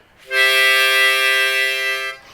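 A harmonica 4-hole blow note is played for about two seconds and sounds slightly thick, with the neighboring 3-hole blow bleeding in. The tone is close, with no talk.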